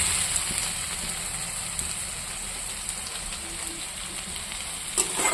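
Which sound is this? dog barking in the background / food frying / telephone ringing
food frying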